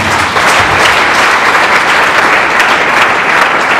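A church congregation applauding loudly, dense continuous clapping from many hands close around, steady for several seconds with no talk.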